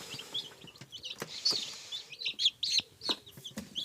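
High, rapid peeping of several newly hatched chicks, close by, with repeated light clicks and taps of eggshell mixed between the cheeps.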